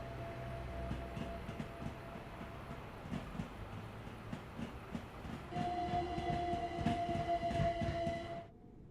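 A Train Sim World 5 train running the ET165 sound mod rolls along with a steady rumbling drone and rhythmic track clatter, then a sustained horn tone sounds over the running noise before cutting off abruptly.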